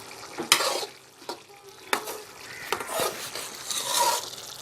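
Mango-ginger pickle is stirred in a pan, a series of irregular scraping strokes with soft wet sizzling between them, close and moderately quiet, without any talking.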